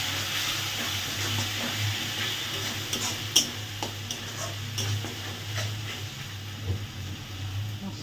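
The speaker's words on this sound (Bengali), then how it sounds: "মশলা ভাজা হয়ে গিয়েছে।" Spices with turmeric powder and a little water frying in a pan while being stirred, a steady sizzle with scattered scraping clicks of the spoon, no voices.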